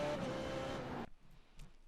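An F3.5 race car engine in the iRacing video game whines loudly at a steady pitch, then cuts off abruptly on a gear shift, leaving only faint low rumbling.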